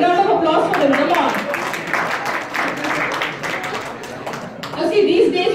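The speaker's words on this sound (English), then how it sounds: "let's have a big round of applause for them" An audience at a BenQ 4K projector launch event applauds with a dense patter of clapping hands, while voices carry over it for most of the clip.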